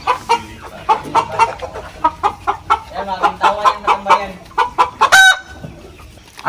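Show-type Rhode Island chickens cluck and a rooster crows close by, with a person speaking briefly over the birds.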